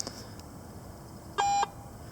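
Metal detector giving one short, clear electronic beep over a target in a creek area, alone against quiet background hiss.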